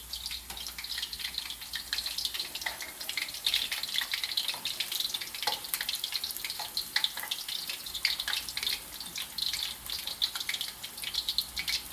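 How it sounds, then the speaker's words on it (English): Fish sizzles in a hot pan with a continuous, fairly quiet crackling hiss, small pops scattered through it and no voices. "Our fish is starting to sizzle, so we're just going to give that a little toss"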